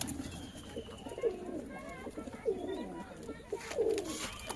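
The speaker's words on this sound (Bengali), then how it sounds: "এটা একটা মাদি পায়রা" A female Madrasi pigeon gives soft, repeated cooing calls in a quiet setting, three or four rolling coos spaced about a second apart, fairly close and moderately faint.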